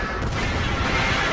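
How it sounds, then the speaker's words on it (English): LOLBOMB glove explosion in the Roblox game Slap Battles, a single loud, broad blast that rumbles on briefly, heard alone without talk. "The explosion just makes you fall over"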